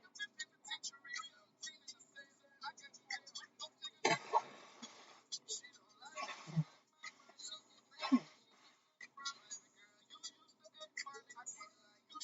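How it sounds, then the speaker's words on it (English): Someone blows their nose in three forceful, breathy bursts, close by, with quieter sounds in the background between them. "I gotta blow my nose"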